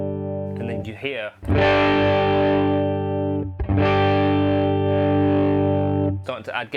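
Electric guitar played through a pedal built around a Tweed amp circuit, with gain being turned up: two loud, ringing strummed chords sustain with light overdrive, and brief talk is heard at the start and end.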